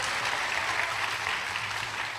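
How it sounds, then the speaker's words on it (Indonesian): A church congregation claps hands together in a steady, continuous burst of applause, moderately near and filling the room, with a faint low hum beneath. "Tepuk tangan dong, mana yang bagian sponsor tepuk tangan tadi tuh?"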